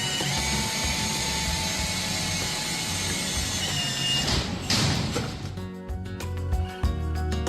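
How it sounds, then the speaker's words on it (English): A power drill whirs loudly and steadily for several seconds, spinning to peel off plastic film, then winds down with a few rattling, uneven spins and stops. "Let the drill take care of it in just a few spins."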